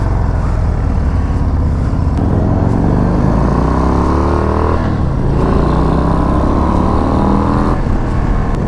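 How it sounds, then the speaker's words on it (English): A Harley-Davidson Low Rider ST motorcycle engine running on a test ride, a loud, steady close-up drone with rising revs through several gear changes, no talk over it. "the engine, you feel the engine working under you"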